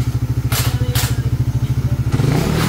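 Hot motorcycle engine cranking with a steady, rapid chugging pulse and a few sharp clacks, then catching and rising into a fuller rev near the end, loud and close with no talk.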